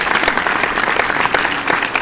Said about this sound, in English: I was about to tell you to give a round of applause, so you already did that.